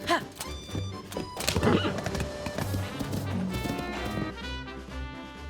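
A horse whinnies in the video game The Legend of Zelda: Tears of the Kingdom over busy background music with a few dull thuds, then the music carries on steadily.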